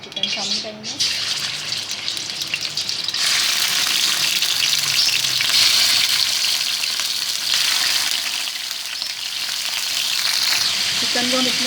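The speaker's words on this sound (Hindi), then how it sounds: "घी गर्म हो गया हमारा, इसमें हम चिकन शामिल करेंगे।" Chicken hits hot ghee in a karahi and sets off loud, steady sizzling and crackling that carries on for several seconds after a brief quieter start. A voice speaks underneath the frying.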